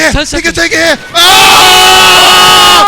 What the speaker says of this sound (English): The crowd going insane!